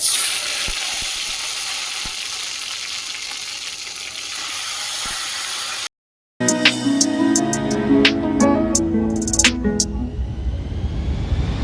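Oil hisses and crackles steadily, then a brief silence gives way to louder, sharper sizzling with popping bursts as ginger paste and tomato hit the hot pan.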